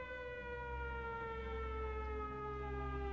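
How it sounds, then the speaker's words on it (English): Air raid sirens wail over a city, a steady sustained tone with layered harmonics that slowly sags in pitch, continuous and distant-sounding, with no other sounds or voices. "At 10 a.m., the sirens in the city wail."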